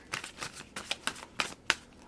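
Tarot cards being shuffled by hand for a reading, a run of quick riffling, slapping bursts, about eight close crisp pulses in two seconds, fairly quiet, with no voices.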